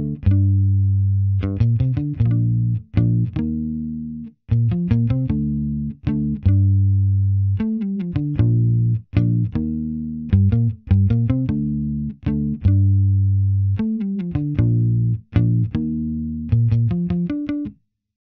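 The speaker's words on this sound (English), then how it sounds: "I kind of did that for the bass, and the bass sounds like this." Distorted trap bass line programmed with Maschine and Scaler, playing short punchy notes in a steady repeating pattern with brief gaps, loud and alone.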